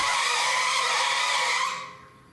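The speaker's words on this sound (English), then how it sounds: "Spun the belts, which is essentially what I really wanted it to do." Drive belts on a lithium electric shredder slip and spin under overload, giving a loud, steady high squeal that fades away near the end.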